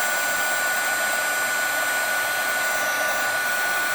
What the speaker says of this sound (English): want to start the heat so that it's just beginning to raise the image, and then slowly bring the tool across the image